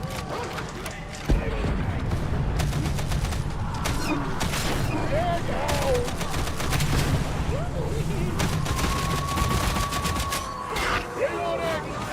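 Rapid bursts of weapon fire from the game Heretic ring out through a dense, busy mix of clanks and creaks, repeating in clusters across the stretch while a person talks over it.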